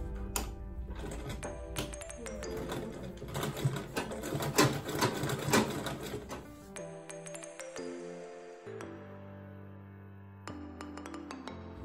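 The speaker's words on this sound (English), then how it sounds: "I'm going to sew from this point all the way to this point now." A manual sewing machine stitches an Ankara tote bag in a rapid, close mechanical clatter for about seven seconds, then slows into scattered clicks and brief runs with quieter gaps.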